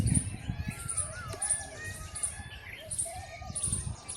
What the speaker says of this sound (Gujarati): મોરલાનો અવાજ તો તમે સાંભળતા જ હશે